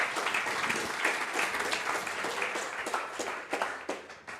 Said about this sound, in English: one more round of applause for Echo's Mob